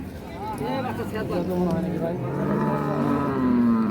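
A Holstein Friesian cow with her calf moos in a long, drawn-out low call, close by, with people talking in the background.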